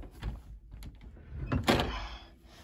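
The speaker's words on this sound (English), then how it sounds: "I'm gonna go answer the door now." Indoor door opening in a household scene, with a broad thunk and a rush of handling noise near the middle, heard up close and fairly loud against low background sounds.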